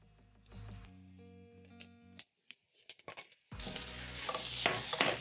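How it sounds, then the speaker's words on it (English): Minced meat goes into a pan of onions and garlic with a clatter of utensils, then a loud, bright sizzle takes over and continues with scraping stirs close by, with no talk. "I'm going to add in my minced meat into my pan"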